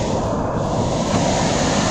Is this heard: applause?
no